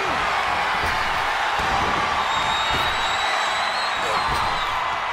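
Crowd noise in the wrestling video game WWE 2K24: a loud, unbroken roar of a cheering arena audience with scattered whoops and impact thuds over the sustained din.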